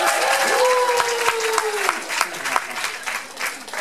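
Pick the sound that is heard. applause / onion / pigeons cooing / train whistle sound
applause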